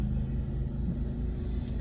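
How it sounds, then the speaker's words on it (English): A lawn mower running outdoors nearby, a steady low droning rumble with no breaks, loud and continuous throughout. "they're mowing out here, so I'm sorry for the noise"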